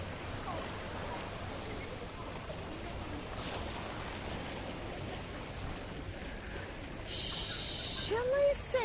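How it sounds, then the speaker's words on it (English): Sea waves break and wash along the rocky shoreline of the Paphos Promenade in Cyprus, a steady, soft surging hiss heard from nearby, with a brief louder burst of other noise toward the end. "the waves kiss and lick the shoreline of the Paphos Promenade"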